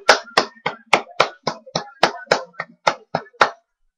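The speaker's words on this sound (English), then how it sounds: "Now he's clapping." Hand claps from a man at a wrestling event, about thirteen sharp, close and fairly loud claps in a steady rhythm, sounding alone with no talk.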